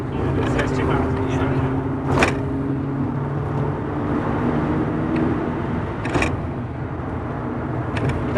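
Idling 1993 Mazda RX-7 rotary engine holds a steady low drone close by, given a light blip of throttle, with people talking over it and a couple of brief sharp clicks.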